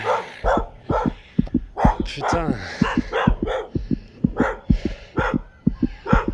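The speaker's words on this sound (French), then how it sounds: "maintenant c'est les chiens qui veulent m'attaquer" Several dogs bark aggressively close by in a rapid, repeated string of sharp loud barks, with a man's brief exclamation among them.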